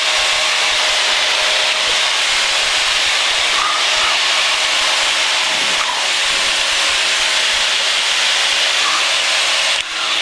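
A small airplane engine climbs at about 2300 RPM at roughly 1200 feet, droning as a steady, loud, broadband roar that holds even and unbroken throughout.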